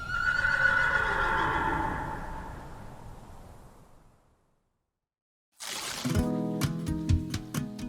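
A loud, drawn-out horse whinny at a horse rescue shelter fades away, a brief silence, then music with sharp percussive hits begins.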